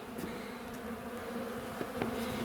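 Bees from an exposed hive hum in a dense, continuous buzzing swarm close by, with a few individual bees passing nearer.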